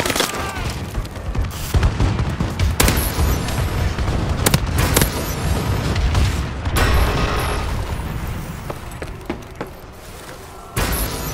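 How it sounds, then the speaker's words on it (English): Dense, rumbling explosions from a friendly bombing run in Call of Duty Advanced Warfare team deathmatch, a continuous barrage of booms and thuds with gunfire mixed in, loud and sustained throughout. "Friendly bombing run clearing the way."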